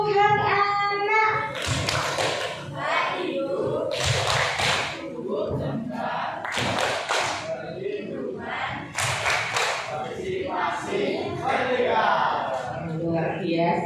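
Junior high students at SMPN 9 Surakarta perform a children's rights clap chant, shouting rhythmic lines together and punctuating them with group claps and thumps, with voices loud and close throughout.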